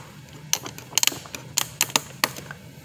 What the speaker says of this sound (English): So what we want to do now is take our canvas and tape it down